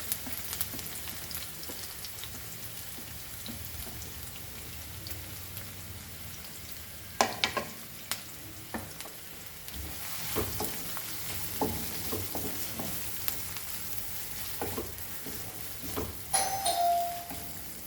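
Onions sauté in two tablespoons of oil for Goan squid ambot tik, a steady soft sizzle with occasional sharp clinks and scrapes of stirring, fairly quiet and with no voices.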